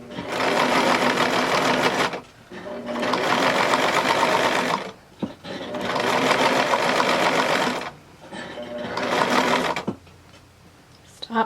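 A sewing machine stitches fabric for a Y seam in several sustained, close runs of fast rhythmic whirring, with short pauses between them and a brief final burst.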